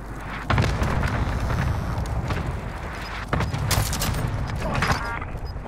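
Precision airstrike explosions in Call of Duty, a string of heavy booming blasts with crackling debris, loud and close, the first hitting about half a second in and another big impact near three seconds, with rumbling between.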